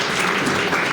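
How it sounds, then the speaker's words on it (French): Audience applause at a Sokone BTS ceremony receiving equipment, a dense, steady clapping that fills the moment loud and close, with no voice rising above it. "applaudissez fortement pour lui"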